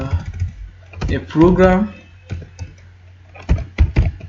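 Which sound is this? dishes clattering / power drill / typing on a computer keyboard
typing on a computer keyboard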